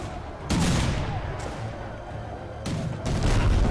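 Heavy booming cannon fire in the game Risen 3: Titan Lords, loud and close, with two sustained barrages separated by a brief lull.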